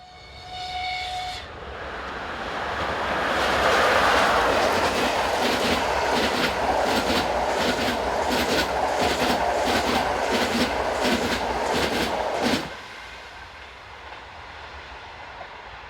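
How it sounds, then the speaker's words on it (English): Slovakian Railways locomotive 362008 hauling an express passenger train from Budapest to Prague passes close by, a loud rushing roar with rhythmic clickety-clack of wheels over rail joints, then abruptly drops away to quieter background. "Slovakian Railways 362008 heads north with the 941 from Budapest to Prague"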